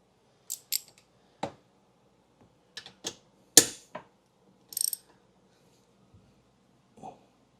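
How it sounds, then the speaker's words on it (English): Wrench turning tight bolts on a Kawasaki 1100 STX jet ski: a series of short, sharp metallic clicks and ratcheting snaps come in uneven bursts with quiet gaps between them, close and moderately loud. "got a more appropriately sized wrench for this job"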